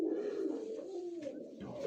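Domestic pigeons in a Mykolaiv loft give a low, continuous throaty coo, close and fairly quiet, rolling without pause.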